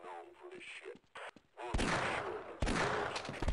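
Shotgun blasts in Half-Life, with two loud, close broadband bursts in the second half. Game noise and voices precede them.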